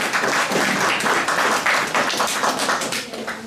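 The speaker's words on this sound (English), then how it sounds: "let's give them a round of applause" A crowd of listeners applauds, a thick, even roar of many hands clapping at once, loud and sustained throughout, with no voices on top.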